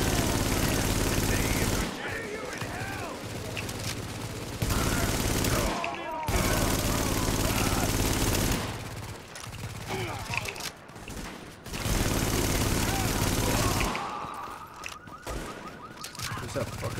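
Rapid automatic gunfire in The Division's Dark Zone comes in loud sustained bursts separated by quieter stretches, with players talking over the action.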